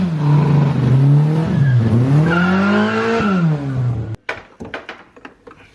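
Rear-wheel-drive K-swapped Subaru Impreza being driven to test its differential, the engine revving loudly up and down through several rises and falls before cutting off abruptly, followed by scattered clunks and tire noise.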